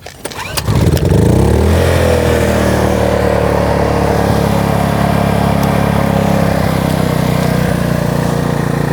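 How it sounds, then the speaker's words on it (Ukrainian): A Kraft&Dele KD681 inverter petrol generator starts and then runs steadily under an electrical load, giving a loud, constant engine drone close by with no speech. "Отже, генератор запустили, вмикаємо секундомір."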